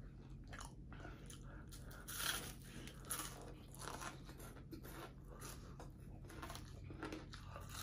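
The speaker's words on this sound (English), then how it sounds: "We gotta keep chewing." Close, quiet chewing and crunching of spicy sauced chicken wings, with steady bites and wet mouth sounds over a low background hum.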